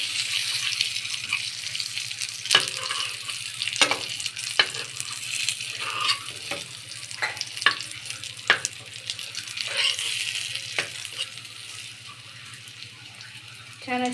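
Bangda (mackerel) fish frying on its second side in a home kitchen pan, a soft steady sizzle broken by scattered clinks and brief splashy bursts, moderately close and fairly quiet.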